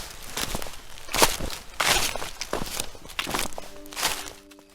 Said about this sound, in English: But then I heard it. Soft footsteps outside.